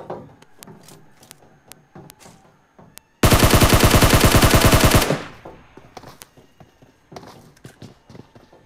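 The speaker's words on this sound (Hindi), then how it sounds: "टीम नाइन और टीम सेवन का गन फाइट" Gunfire between two teams in a video game: scattered shots and footsteps lead into a loud, close, sustained burst of rapid automatic fire lasting about two seconds, then more sparse shots and movement.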